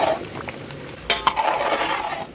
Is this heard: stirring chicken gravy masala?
yes